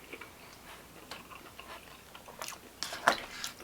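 Faint close chewing and crunching of crisp vegetables with beef and noodles, scattered bites growing sharper toward the end, without voices.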